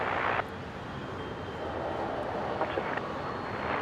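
C-130J military transport aircraft landing at Brisbane airport, its engines a steady, distant, broadband roar holding at moderate loudness throughout.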